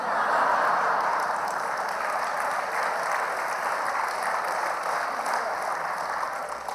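A large audience at an evening talk in a theatre applauds continuously, a dense, even wash of many hands clapping that holds steady throughout with no voice above it.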